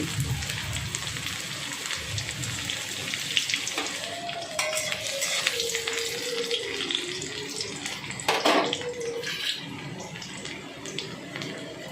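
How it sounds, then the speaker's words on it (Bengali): Garlic pieces sizzle in three spoonfuls of hot oil in a wok, a continuous close frying hiss with occasional utensil scrapes and clinks. "কড়াতে তিন চামচ তেল দিয়ে দিয়েছি তেলটা কিন্তু গরম হয়ে গেছে এবং কয়েকটি রসুন আমি এরকম টুকরো টুকরো করে নিয়েছিলাম সেই রসুনের টুকরোটা দিয়ে দিচ্ছি"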